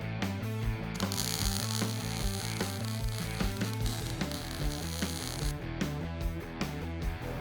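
An improvised arch maker bending steel tubing in a custom garage produces a loud, close, rhythmic mechanical clatter with ratcheting clicks and grinding, repeating steadily throughout without talk.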